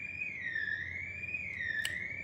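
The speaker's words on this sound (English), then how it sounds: "Oh, an alarm." An electronic alarm wails with a smooth, slowly rising and falling tone, steady and moderately loud over low background hum, with a brief click near the end.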